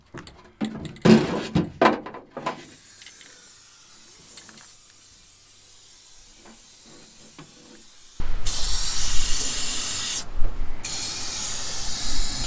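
Aerosol coating sprayed onto the rusty underbody of a Dodge, with scattered clunks and handling noises first, then a loud steady hiss of spray in two long bursts.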